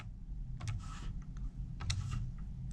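A few soft clicks of fingers pressing calculator keys, quiet and close, in short irregular pairs with brief pauses between presses.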